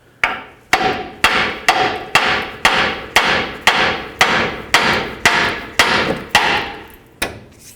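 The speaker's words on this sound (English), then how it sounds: "go ahead and hammer right here on the knuckle" A hammer strikes the steering knuckle of a 2001-07 Toyota Sequoia to break the tie rod free, landing about a dozen loud, evenly spaced metallic blows close up, each ringing briefly before the next.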